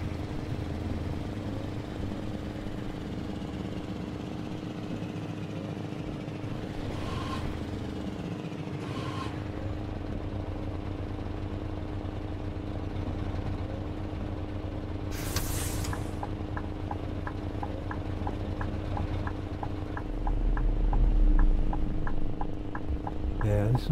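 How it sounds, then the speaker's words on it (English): A stuck, droning truck engine loop from Euro Truck Simulator 2 hums steadily throughout, with a few brief bursts of noise and a slight swell near the end; no one speaks. "But the engine sounds got stuck."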